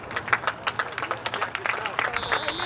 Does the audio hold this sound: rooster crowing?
no